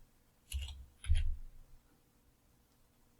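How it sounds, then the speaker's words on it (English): Two brief clusters of clicky keystrokes on a computer keyboard as shortcuts are typed, close and crisp, separated by a short pause and followed by near silence. "hit Control and M together and type A, tab, B, tab, C."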